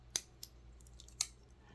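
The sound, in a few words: full-size scissors snipping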